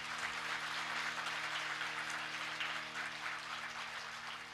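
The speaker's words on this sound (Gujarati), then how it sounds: "એ વ્યક્તિ અમારી હાટોથી લાઈનમાં ઊભા રહી અને જોરદાર તાળીઓથી વધાવો" A crowd giving loud, sustained applause to welcome a host: a continuous dense patter of many clapping hands with no clear breaks, easing slightly toward the end.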